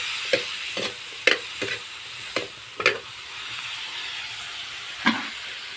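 Pork being sautéed in a pan for mung bean stew, a steady close sizzle broken by repeated scraping stirs at irregular intervals, with no talking.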